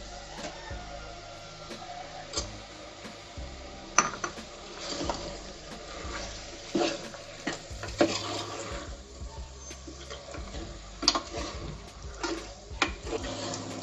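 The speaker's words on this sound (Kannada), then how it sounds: "ನೋಡಿ ಮಟನ್ಗೆ ಟೊಮೊಟೊ ಎಲ್ಲ ಹಾಕ್ಮೇಲೆ ನೀಟಾಗಿ ಟೊಮೊಟೊ ಹಣ್ಣು ಮೆತ್ತಗಾಗೋವರೆಗೂ ಫ್ರೈ ಮಾಡ್ಕೊಳ್ಳಿ" Mutton and two medium tomatoes fry in oil in a pan for biryani, with a steady clatter and scrape of stirring, irregular spoon knocks against the pan and a low sizzle underneath, close and fairly quiet, with no talking.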